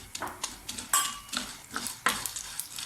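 Pumpkin and sunflower seeds stirred in a dry frying pan, with a utensil scraping and clinking against the pan in irregular close strokes and a faint sizzle.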